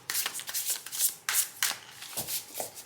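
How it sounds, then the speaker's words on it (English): A tarot card deck is shuffled by hand in close, quick bursts of riffling and rubbing, with short pauses between passes and no talking. "I'm going to shuffle the deck"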